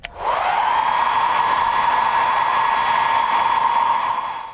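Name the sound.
blow dryer running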